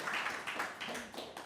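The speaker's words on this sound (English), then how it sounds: "I think that deserves a round of applause." Small audience clapping a round of applause during a product-design talk: a few quiet, irregular hand claps close together, with no voices.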